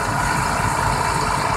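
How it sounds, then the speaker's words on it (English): An IH Quadtrac 450 tractor with a 467-horsepower engine runs at a steady idle, a loud, close, even diesel rumble with no changes in pace. "IH Quadtrac 450,"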